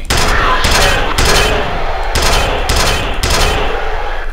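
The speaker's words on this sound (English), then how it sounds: "I'm going to shoot you with the penetrator!" The Penetrator weapon fires in the shooter F.E.A.R. as loud, close bursts of rapid shots, about seven heavy blasts in quick succession with a dense crackling tail.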